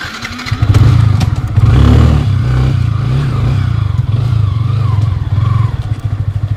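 A loud Kawasaki Z900 motorcycle engine revs hard close by, with throaty surges early on and then a rough, pulsing idle that keeps rumbling throughout.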